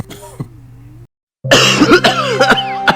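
Someone coughs twice, first a faint short cough, then after a brief silence a burst of loud, harsh, close coughing with throat-clearing sounds.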